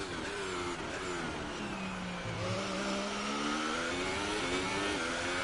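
The Ferrari engine of an F1 car in the video game F1 2018 whines and revs continuously, pitch sliding and climbing through gears at steady moderate loudness, no voices.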